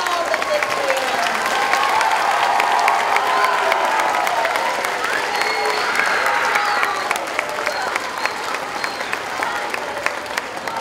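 Dense, sustained applause from a school audience at a fifth grade completion ceremony for the Valier class and fifth graders, with some cheering and voices mixed into the steady clapping throughout.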